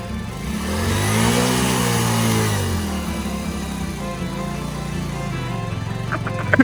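A vehicle on a hill road near Nainital arrives with its engine revving up and falling back, a loud rising and settling drone, followed by a steadier lower idle and a few sharp clicks at the end.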